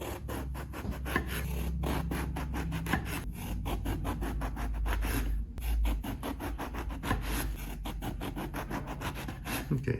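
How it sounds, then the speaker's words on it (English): A serrated bread knife saws through eggplant on a cutting board, giving steady close rasping strokes with a rough scraping texture, repeated continuously without talk. "I find a bread knife works really good in cutting these off, slicing them up."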